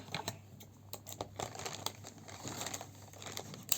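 A Miniso wallet's packaging being opened up close: crinkling plastic and paper, small rustles and taps, with a sharper snip or tear near the end.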